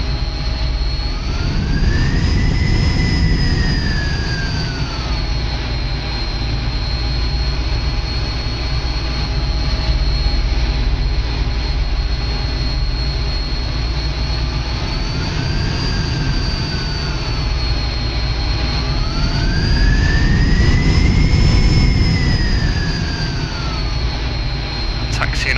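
Jet airliner engines in Flight Simulator X taxiing at Manchester Airport, a steady loud whine and rumble throughout with rising and falling tonal sweeps as thrust changes, with no speech heard.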